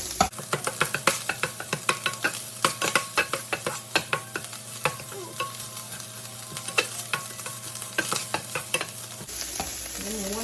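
Minced pork stir-fried in oil for Thai basil pork, with a metal spatula scraping and knocking the pan in quick repeated strokes over a steady sizzle, close and busy, ending abruptly.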